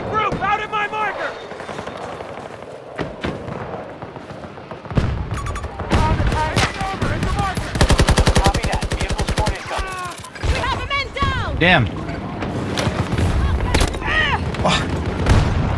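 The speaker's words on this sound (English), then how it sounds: "I shot our teammate accidentally. He stood in front of me." Rapid bursts of gunfire and heavy booms in Battlefield 2042 on the Arica Harbor map in hardcore mode, loud and dense in the middle and later stretches, with a voice speaking briefly over the shooting.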